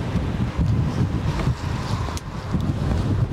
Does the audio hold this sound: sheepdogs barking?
no